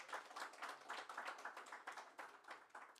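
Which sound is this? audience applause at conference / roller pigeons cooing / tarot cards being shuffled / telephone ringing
audience applause at conference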